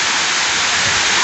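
A waterfall roars in a dense, steady, loud wash of falling water, unbroken and close, with no voices.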